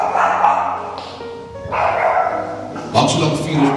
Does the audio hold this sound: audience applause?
no